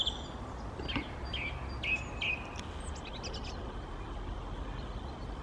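A blackbird sings at an allotment in January, a few short fluting phrases and chirps at moderate distance over steady outdoor background noise, fading into quieter twitters.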